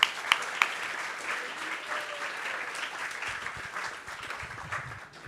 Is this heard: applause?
yes